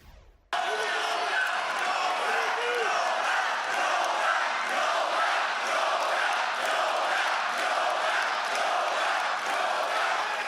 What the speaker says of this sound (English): here is how the crowd responded to him